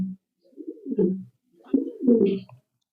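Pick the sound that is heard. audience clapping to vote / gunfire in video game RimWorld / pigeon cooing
pigeon cooing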